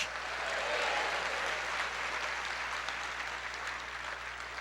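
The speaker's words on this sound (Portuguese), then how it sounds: "Dê uma salva de palmas ao Senhor" A church congregation claps together in a steady, dense round of applause that holds at an even level for several seconds over a faint low hum, with no voices.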